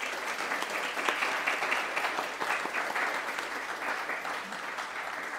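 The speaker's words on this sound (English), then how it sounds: "Let's give them another round of applause." Sustained audience applause for students at a history class event with strawberries and cream, steady and fairly loud throughout, with no speech.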